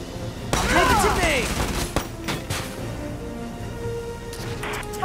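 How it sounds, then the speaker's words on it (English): Suppressive gunfire in the video game Valkyria Chronicles 4: a loud burst of rapid rifle shots with echoing booms, followed by scattered fainter shots and battle noise. "We need suppressive fire!"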